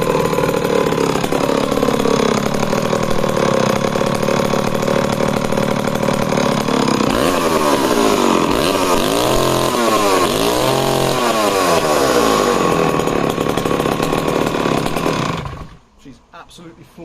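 A vintage chainsaw of 95cc to 125cc runs loud and close, a continuous raspy two-stroke roar with the revs rising and falling in waves, then cutting off abruptly near the end.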